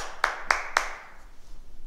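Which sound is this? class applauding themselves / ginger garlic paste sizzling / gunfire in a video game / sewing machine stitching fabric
class applauding themselves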